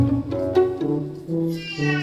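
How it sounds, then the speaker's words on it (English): Several cats meow over and over in overlapping, harmonic cries, some long and wavering, others short, close and fairly loud with no talk in between. "Like a symphony going on. Everyone meowing away"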